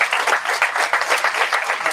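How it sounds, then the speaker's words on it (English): Audience applause at a community college mayoral candidate forum, dense continuous clapping from many hands, close and loud, steady across the whole stretch with no talk over it. "Give them a round of applause."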